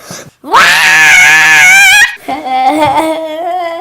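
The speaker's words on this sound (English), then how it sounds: "sometimes you just gotta scream." Children at an elementary school scream loudly and close by in a long, sustained shriek, then a second wavering scream follows after a brief gap.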